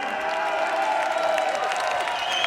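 Crowd applause and cheering at a fight event before a cage interview, dense clapping with a loud tonal wash beneath it, continuous for a couple of seconds.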